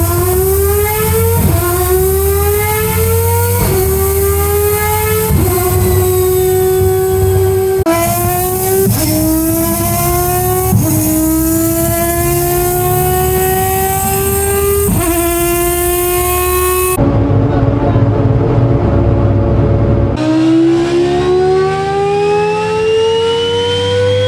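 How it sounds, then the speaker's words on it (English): A turbocharged five-rotor rotary engine with a 119mm turbo revs hard at wide open throttle, its rising howl repeating in several sweeping pulls, very loud and close, broken by an abrupt cut near the end. "when we go wide open throttle, we'll have to cut all the spark and you'll hear it be really loud with the big backfire"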